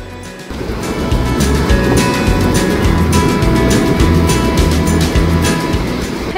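Sea waves roll onto the sandy beach at Puri in a loud, continuous wash of surf with a low rumble underneath, close by and with no voices.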